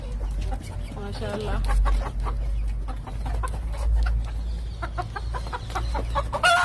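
Several chickens in a rooftop cage cluck and chatter close by in short repeated bursts, with a low rumbling hum underneath.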